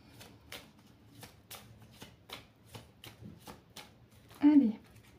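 A deck of oracle cards is shuffled and cut, giving a steady run of crisp, close card snaps and riffles at a regular rhythm, followed by a brief spoken word near the end.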